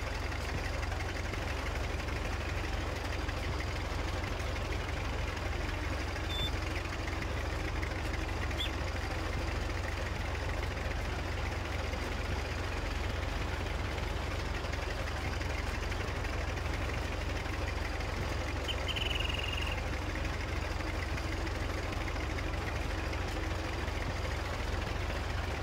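A tractor engine pulling a sowing machine in the Farm Simulator video game drones steadily and continuously at a constant low pitch, with no talk.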